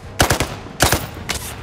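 A floppy gun in a video game fires three quick bursts, each two or three rapid cracking shots with short gaps between bursts, loud and close, the last burst a little fainter.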